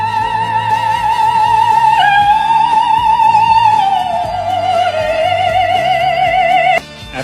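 An operatic soprano sings a sustained recorded passage, a loud, vibrant voice holding long notes with wide vibrato and stepping downward, with accompaniment underneath, ending abruptly.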